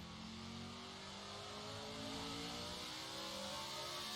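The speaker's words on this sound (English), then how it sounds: "It's really nice to be driving these slower Formula cars" A 1966 McLaren M2B Formula car in a sim racing game drives through an airfield circuit, its engine droning steadily and loudly throughout with rising and shifting pitch as it accelerates, no talk over it.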